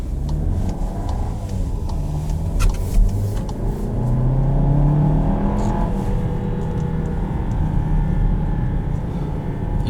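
A 2021 Volkswagen Tiguan SEL Premium R-Line accelerating in sport mode, with a loud, steady engine drone that holds a high gear and rises in pitch, heard from inside the cabin.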